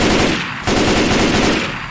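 Loud, sustained machine-gun fire in a first-person shooter game, a dense rapid rattle of shots that holds steady for about two seconds with no voices over it.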